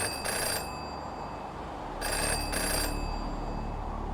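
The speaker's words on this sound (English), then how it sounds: "Okay, I can hear the ringing," A telephone rings in the video game Jenny LeClue, two bursts of bright trilling bells separated by a short pause, fairly loud over a low background hum.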